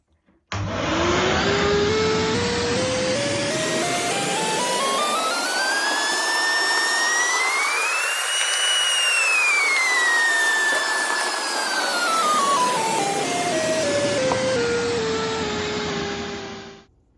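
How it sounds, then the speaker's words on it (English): A vacuum cleaner whines loudly and continuously while cleaning an LG fridge air vent, its pitch rising then falling as the motor strains against the nozzle, then cuts off at the end. "And let's now vacuum this part."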